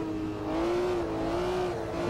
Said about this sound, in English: And the M1, such a lovely car.